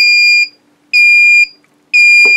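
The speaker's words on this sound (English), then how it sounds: "constant beeping" Loud, piercing electronic beeps sound from a drone receiver setup, repeating at an even rhythm of about two per second with short silent gaps between them.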